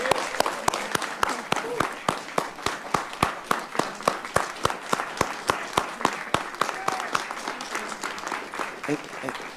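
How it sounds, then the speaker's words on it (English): Applause at a community college board of trustees meeting honoring a Fulbright award, heard as fairly faint, sparse, rhythmic clapping with distinct individual claps in a steady pulse and faint voices underneath. "we give her a tremendous round of applause"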